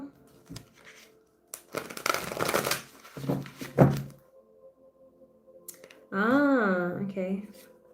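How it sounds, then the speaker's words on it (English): Brief riffling and thumping bursts of cards being shuffled, a couple of quick passes, followed by a voice speaking near the end. "one more shuffle."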